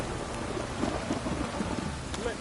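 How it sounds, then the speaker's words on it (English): Steady rain pours down, a dense hiss of drops on surfaces throughout, close and unbroken. "If it don't stop raining, my arse will rot off."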